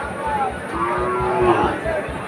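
A cow at the Udaipur cattle market gives a long, drawn-out moo, loud and nearby, over a busy murmur of background noise.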